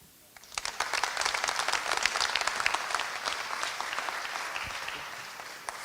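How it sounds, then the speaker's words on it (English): An audience at an awards ceremony breaks into applause for a poet, a sudden swell of many hands clapping that holds steady for several seconds and slowly tapers off. "A big round of applause once again."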